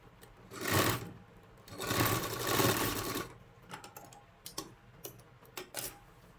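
A household sewing machine stitches a sleeve onto a blouse, running in two sustained bursts and then giving several short, quick stitching spurts with brief pauses, close and fairly quiet.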